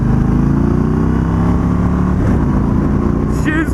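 A loud motorcycle engine rumbles and revs through its stock exhaust close by, a deep throbbing growl that rises briefly near the end.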